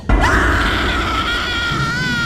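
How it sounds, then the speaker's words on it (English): A woman screams loudly and continuously outside a store, a shrill, sustained wail that wavers in pitch and holds close and intense throughout with no talking. "I saw a woman come screaming and running out of the store like a psycho."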